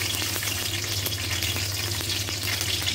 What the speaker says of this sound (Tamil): கொஞ்சம் ஆயிலை நான் ஹீட் பண்ணி வச்சுருக்கேன் இதில் ரெண்டு பச்சை மிளகாய்